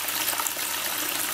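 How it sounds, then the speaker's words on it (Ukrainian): Water from a borehole well pump begins running into a 10-litre bucket, a steady broadband rush of pouring and splashing that holds at an even level for the whole moment, close by with no talking. "А, побігла наша водичка."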